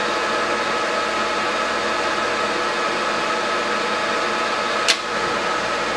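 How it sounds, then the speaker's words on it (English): A Willis Machinery WM3VS knee mill's power feed lowers the quill with a steady motor whine and hum, ending in a short sharp click as it reaches the depth stop. "I engage the power feed, let's say right top of it, it will come down until it hits that limit"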